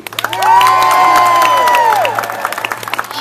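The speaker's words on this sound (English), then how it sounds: "Your feelings about Thea and Bachelor number 2? Applaud now." An audience at a comedy sketch show cheers and whoops loudly for about two seconds, with scattered claps trailing off afterward.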